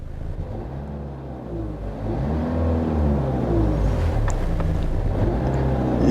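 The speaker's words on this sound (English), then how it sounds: "I'm gonna press the gas pedal" A car engine revs up as the gas pedal is pressed during a scan-tool recording, a steady low rumble that builds and stays loud throughout, with some wind-like noise over the top.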